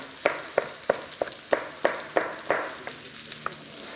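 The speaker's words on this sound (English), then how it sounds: "we need to sear the meat, and we don't want to stew it in the pan" Beef fillet searing in a hot pan, with a run of sharp, evenly spaced crackling pops about three per second over a steady sizzle, close and moderately loud, with no talking.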